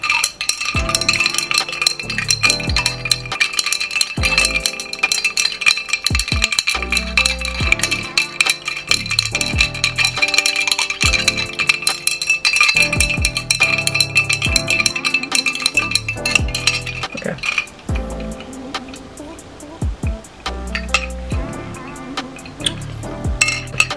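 Drink with strawberry and kiwi chunks being stirred in a glass, with steady clinking and rattling of a utensil against the container, loud and close, in repeating rhythmic bursts that ease off toward the end.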